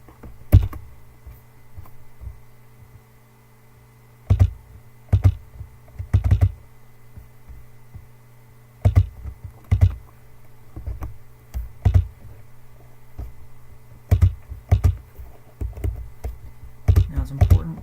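Short bursts of computer keyboard typing, close and crisp, come in irregular clusters with brief pauses between them over a low, steady electrical hum.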